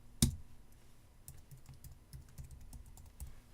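Username and password keyed in on a computer keyboard: a brief burst of soft, close keystroke clicks, uneven in rhythm, with one louder thump at the start and a quiet room around it.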